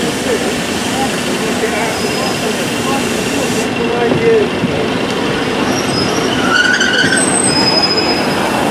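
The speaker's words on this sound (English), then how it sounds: "But here comes my train, which is the Goole from the 1758 Northern service to Goole." A Northern passenger train for Goole pulls into a platform at York station, wheels squealing and rumbling loudly close by, with a brief spoken word over the noise.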